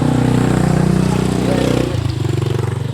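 A motorcycle waits on a rural provincial road, its engine running close and loud with a steady pulsing putter that drops to a lower, throbbing idle partway through.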